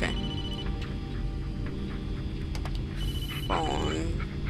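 A phone ringing in the horror video game Blair Witch, a repeating electronic ring over a steady low hum and game ambience.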